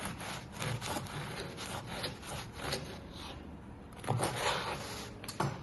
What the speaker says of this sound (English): This is the bread knife.